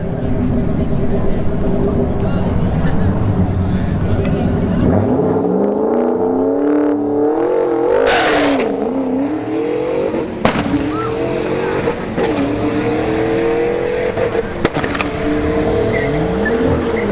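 A turbocharged S197 Ford Mustang makes a drag strip run at a street racing event, its engine loud and roaring as it accelerates, with rising pitch through the gears, crowd noise and an announcer talking over it.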